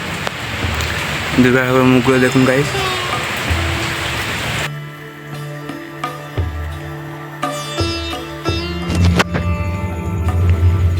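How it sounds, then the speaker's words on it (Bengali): Steady rain patters in the first half, partly masked by a person talking; the second half turns quieter with scattered tones and clatter. "বৃষ্টি প্রচুর পড়ছে এদিকে"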